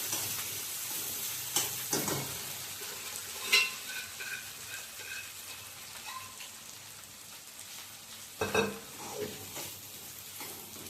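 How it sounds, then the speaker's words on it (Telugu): Steady sizzling as lentils are added to a hot tempering in a pan, with scattered crackles and a few sharper stirring clatters, close and moderately loud, with no voices. "పోపులు వేసుకొనియండి, పప్పు వేసేసుకుందాం"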